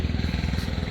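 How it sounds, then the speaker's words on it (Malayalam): A motorbike engine chugs steadily nearby on a temple ground, with a rhythmic low thumping pulse, continuous and fairly loud throughout the short moment. "കെബീറക്കയുടെ വാഹനത്തിൻ്റെ ബൈക്കിൻ്റെ സൗണ്ട് കേട്ടാൽ ഹോൺ കേട്ടാൽ"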